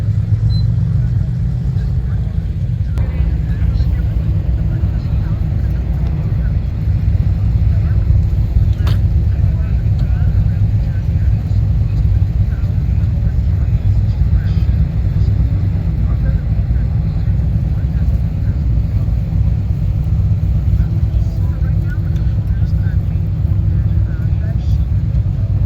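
Vehicles idle and creep in a traffic jam on Wildlife Loop Road, a buffalo herd on both sides. A steady loud low engine rumble runs throughout, with people talking over it.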